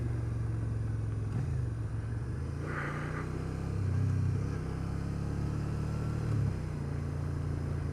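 A 2012 Suzuki SFV650 Gladius with a redesigned motor, heard while riding: a steady low engine drone with wind noise and small swells in revs, continuous with no talk.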